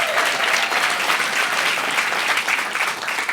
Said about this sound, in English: That's a well-deserved applause.